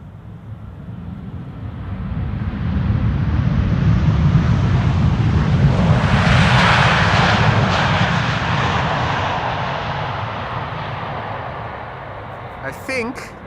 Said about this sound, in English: Air France with a Bombardier C-Series 300, aka an A220. Flight 1500 arriving from Paris.